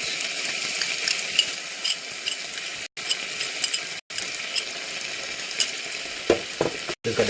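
Ginger and garlic paste frying with cooked onions in separated oil, a steady close sizzle with spoon stirring and scraping through most of it, broken by a few brief pauses.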